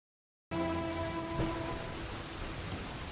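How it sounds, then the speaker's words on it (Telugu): Steady rain pours down in a scene from the Telugu film Urvasivo Rakshasivo, a dense, even hiss that starts abruptly and continues without pause, with a faint tonal hum beneath it at the start. "వర్షం తగ్గిన తర్వాత వెళ్ళు."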